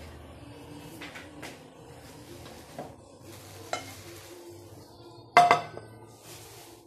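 A detachable handle clicks onto a non-stick pan, with soft handling knocks and faint scraping leading to one sharp metallic clack near the end, fairly close and without talk.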